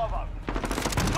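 Rapid automatic gunfire from a Kilo 141 assault rifle in Modern Warfare, a short burst of quick repeated shots lasting about a second, moderately loud against game background noise.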